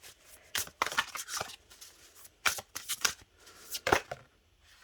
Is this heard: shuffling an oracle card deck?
yes